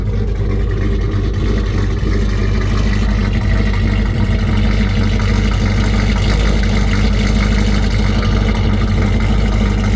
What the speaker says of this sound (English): Definitely idling better since it's warming up.